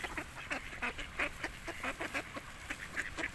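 Ducks being fed grain quack and honk close by in a rapid, uneven series of calls.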